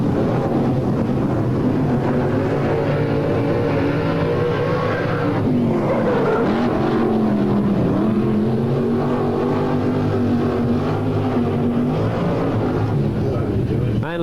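Sprintcars racing at Newcastle Motordrome, loud sustained engine roar with shifting pitch as the cars circle, steady and close throughout, with a commentator's voice underneath.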